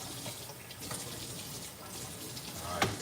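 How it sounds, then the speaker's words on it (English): Water runs from a kitchen tap as a steady, fairly loud broadband rush filling the whole clip, with a brief splashy burst near the end. "You know, this water running."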